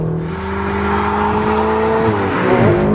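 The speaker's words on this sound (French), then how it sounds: "L'accélération, le moteur marche vraiment très très fort" A Ferrari 488 GTB engine revs up hard, its pitch climbing steadily as it accelerates, loud and close, with a gear change near the end.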